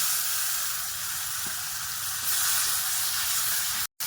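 Taro greens hit hot oil with a loud, steady sizzle and hiss that swells briefly, with a faint stirring clink, then cut off abruptly by a short silence near the end, no voices.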